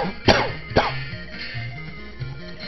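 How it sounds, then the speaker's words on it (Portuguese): Two sharp coughs in quick succession from a person, loud and close, heard over a looping video game soundtrack. "O tosse que não me deixa."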